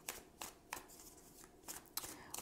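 Tarot cards are shuffled and drawn during a reading, giving soft, close riffling bursts and flicks at an irregular pace, fairly quiet.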